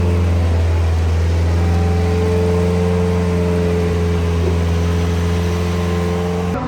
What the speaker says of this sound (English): I just turned the engine on so we can get to hear it a bit as it warms up.